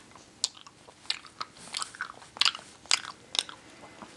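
Raspberry-flavoured chewy candy being bitten and chewed up close, with a run of sharp, irregular crunchy bites and wet chewing sounds, no talking.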